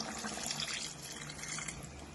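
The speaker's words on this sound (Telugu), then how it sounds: "ఇప్పుడు వేయాలండి పచ్చిమిరపకాయలు వేసేసిన తర్వాత చింతపండు పులుసు పోయాలండి" Tamarind juice is poured into a simmering Konaseema-style koramenu fish curry, giving a soft, continuous liquid splashing and trickling that stays faint and close.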